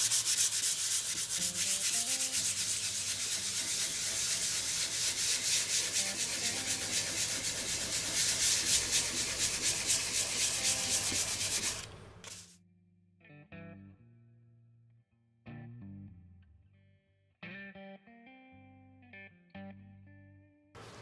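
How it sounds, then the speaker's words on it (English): Hand sanding with 600 grit sandpaper on a superglue-finished guitar gives a loud, steady scratchy rubbing for about twelve seconds, then it stops and a few short bursts of rubbing follow among quiet gaps. "So we'll get some sandpaper. Just got some 600 grit."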